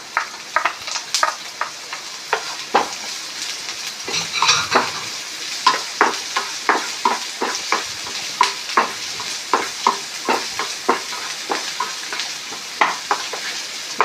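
Sliced onion with crushed ginger and garlic fries in oil in a pan, a constant sizzle broken by regular, sharp scrapes of a spoon stirring close by.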